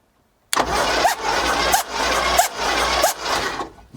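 The engine of a 1963 Cadillac limousine cranks and catches, then revs in several loud, barking bursts before settling, heard up close with no talking.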